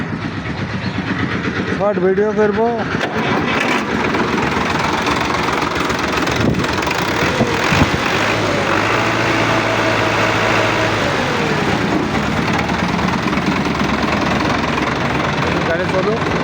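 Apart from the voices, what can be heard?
Sonalika RX 60 tractor engine starting and running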